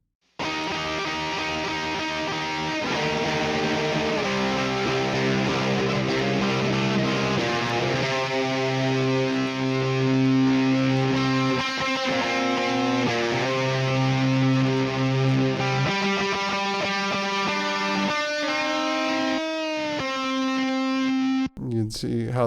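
Two heavily distorted electric guitar parts play together in a cover, one sustained chordal line layered with a second melodic part, loud and dense throughout with a brief dropout near the end.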